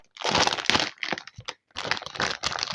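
A plastic package for a Stegosaurus dinosaur toy being torn open: close, loud crinkling and crackling in several bursts with brief pauses between them, no talk.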